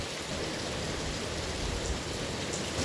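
Steady rain falling near metal walkways around a lookout facing the Spegazzini Glacier in El Calafate, a dense even hiss with no voices.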